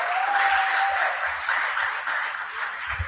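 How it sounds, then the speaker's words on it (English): A school debate audience claps steadily for both teams, a dense wash of hand claps from a crowd that fades slightly toward the end, with no talking over it. "Please give a big clap for both teams"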